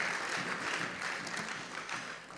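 A church congregation claps together, a dense, even wash of applause that stays fairly loud and continuous throughout, with no one speaking over it.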